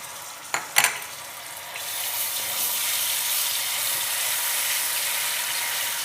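Garlic and ginger paste, about a tablespoon, lands in hot oil with garam masala for chicken tikka masala biryani. After a couple of sharp clatters, a loud, steady sizzle rises and holds, and no one speaks.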